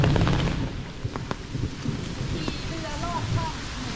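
Rain falling outdoors near water at a cave site in Laos, a steady hiss mixed with wind buffeting the microphone, with voices talking over it.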